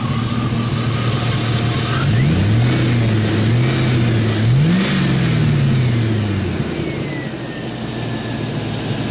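A car engine at a shop, running again after sitting a long while, idles and then revs up and down in several rising and falling surges, loud and close with no talk.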